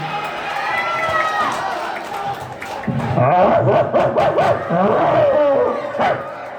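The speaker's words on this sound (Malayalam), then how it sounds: "വീട്ടിലുള്ള നായിൻ്റെ ശബ്ദമാണ്" A dog barks and yelps repeatedly in a rapid, excited burst, close and loud, after a quieter stretch with faint background noise.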